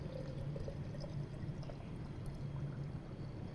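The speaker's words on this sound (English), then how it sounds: "I'm just gonna add the water, because I made a really strong tea" Water steadily poured into a vessel of strong brewed tea while preparing a fermented raw-food drink, a continuous close splashing trickle that holds at an even level throughout.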